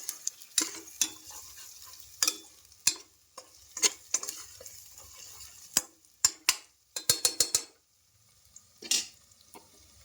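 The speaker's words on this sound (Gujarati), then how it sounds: "ડુંગળી આપણી સતરાઈ રહી છે." Onions sauté in a pan while salt is added during cooking, a soft steady sizzle broken by sharp clinks and scrapes from a stirring spoon, several in quick bursts, with no voices.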